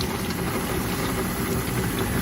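A 2.2 kW, 380-volt electric motor drives a nine-metre flexible auger conveyor loading soybeans, giving a continuous, even, fairly loud mechanical hum and whir with no change in rhythm and no talk.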